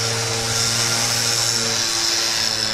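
A leaf blower runs at full power, a loud, steady droning roar with a constant engine hum that never lets up, and no voices over it.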